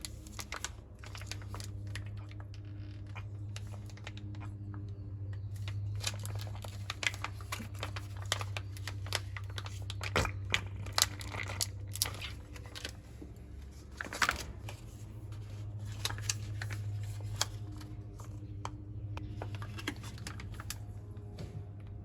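Plastic pouch of GL5 75W90 gear oil squeezed and crinkled while filling a truck differential, giving a steady stream of close, soft crackles and taps over a low background hum.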